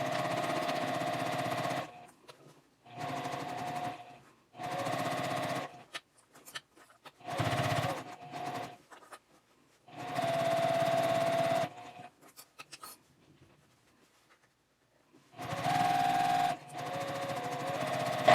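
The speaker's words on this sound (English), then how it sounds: "Now I'm sewing that lining to the other side of the pocket panel." A sewing machine sews lining onto a tote bag pocket panel at a 3.0 stitch length, running in six loud, close bursts of steady whirring separated by short quiet gaps, with no talk.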